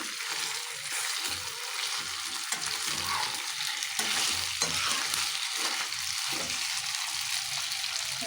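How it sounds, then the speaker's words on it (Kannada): Chicken manchurian mixture frying over a low flame, a steady broadband sizzle running continuously and close, with occasional stirring scrapes and no talk. "ಹೀಗೆ ಫ್ರೈ ಮಾಡ್ಕೊತಾ ಇರಬೇಕು"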